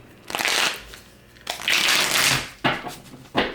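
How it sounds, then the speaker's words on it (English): Tarot cards are shuffled by hand in three bursts of riffling, close and crisp, separated by short pauses. "shuffle them 3 times this way because 3 is a powerful number"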